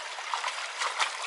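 Fresh drinking water trickling from a spring on a hiking trail in Israel: a brief, close, steady bubbling flow with no voices.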